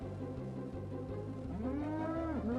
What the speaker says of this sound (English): Cows, please.